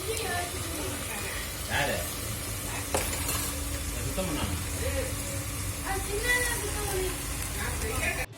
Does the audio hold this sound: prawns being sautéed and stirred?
yes